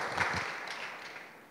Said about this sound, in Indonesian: Kakak Petri, kasih tepuk tangan dulu teman-teman, kasih sambutan.